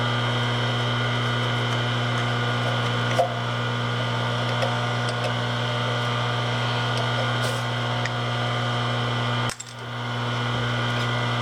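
A milling machine cutting aluminum runs with a steady, loud motor hum and droning harmonics, with faint clicks of flying chips. The sound dips sharply near the end, then resumes.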